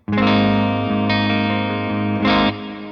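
Sustained clean electric guitar chords through an amp modeler's clean channel with all switches off, a fresh strum near the start, another around the middle and a louder one near the end, steady and close.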